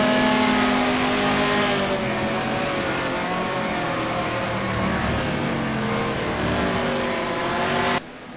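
Historic racing cars, a Porsche and a big-horsepower Ford Mustang, roar past loudly with engine notes that rise and fall as they race close by, then the sound cuts off abruptly near the end.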